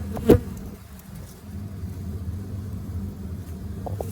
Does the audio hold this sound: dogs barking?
no